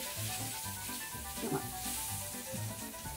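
Butter sizzles and crackles steadily in a hot electric skillet for an upside-down cake, a continuous low frying hiss with a brief louder pop midway, no talking.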